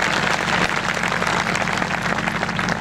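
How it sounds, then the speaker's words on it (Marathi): Audience applause at a kirtan celebration in Shirgupi, a dense, steady wash of clapping from a crowd, sustained and fairly loud over a low background hum throughout. "जरा टाळ्या जोरात वाजाव्यात."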